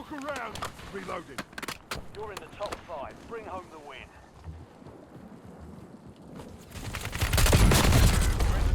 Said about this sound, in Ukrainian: Він встав і зразу почав стріляти